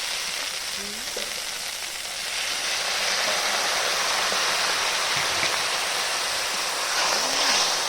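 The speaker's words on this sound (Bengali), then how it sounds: "সুন্দরভাবে কষানো হয়ে গেছে, এবার একটুখানি জল দেবো।" Water poured into a pan of sizzling, well-fried spice mix for a tilapia curry with fresh green beans, giving a steady loud hiss and bubbling that swells after a couple of seconds and continues alone without talk.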